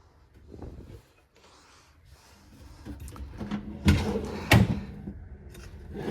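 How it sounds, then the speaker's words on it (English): Soft-close drawers in a 2024 Keystone Montana 3531RE fifth-wheel RV slide and shut with soft muffled thuds, two firmer bumps close by amid quiet handling noise. "all of these drawers here, they're soft close"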